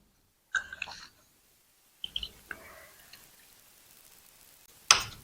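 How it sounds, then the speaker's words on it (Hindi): Fresh lemon juice squeezed by hand into a separate small bowl in a home kitchen, as prep for pachak ajwain: a few short, close wet squelches and drips separated by quiet gaps, ending in a sharper click, with no talking. "तो ये मैंने नींबू का रस निकाल लिया है।"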